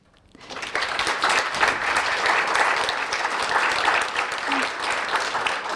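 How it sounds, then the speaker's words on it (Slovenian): Loud, sustained applause from a large audience at a formal ceremony honouring student award recipients, a dense steady wash of many hands clapping that swells in quickly and holds for several seconds. "vse skupaj pa, da jim ob tem namenimo en velik aplavz"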